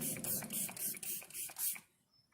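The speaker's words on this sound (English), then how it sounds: "I'm using the Wet n Wild Bretman Rock collaboration spray." Wet n Wild Bretman Rock setting spray fired in a quick series of about six close, hissing pumps in an even rhythm, then stopping abruptly, with no talking.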